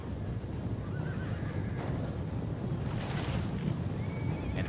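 Horse archers gallop across open terrain in the medieval strategy game Medieval Kingdoms 1212, with horses whinnying and hooves clip-clopping amid a steady, dense battlefield din throughout.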